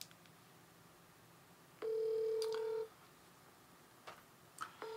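A telephone dials out, with a single sustained loud tone lasting about a second, then a few faint short beeps over quiet background hiss.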